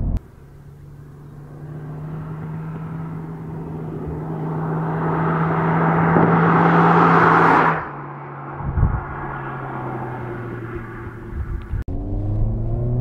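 A Honda Civic Type R FL5 accelerates hard, its engine note building steadily and rising in pitch over several seconds before a sudden cut and gear change, then pulling again; loud, close, with no talk.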